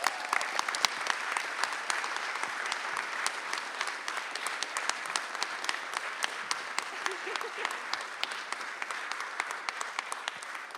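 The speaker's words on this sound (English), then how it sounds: "Could you give him a warm round of applause" Warm applause from an audience at an evening church event, a dense steady patter of many clapping hands sustained throughout at a moderate distance, with faint voices beneath.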